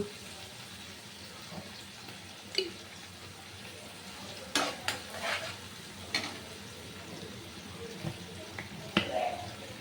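Chilli chicken with soy sauce being stirred in a pan: a quiet sizzle with several sharp scrapes and clatters of the spatula against the pan, spaced irregularly.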